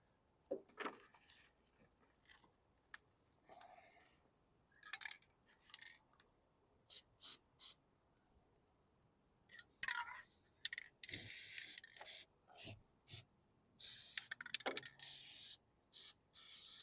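Aerosol paint sprayed onto a 2016 Hyper Tough lawn mower during a full service, heard as short hissing bursts that grow longer and more frequent in the second half, with quiet handling clicks between them.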